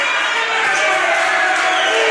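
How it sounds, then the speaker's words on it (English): A sports crowd at a Warriors basketball game cheers loudly and steadily, a dense continuous roar of voices and shouts that fills the whole moment without pause. "They're cheering you on."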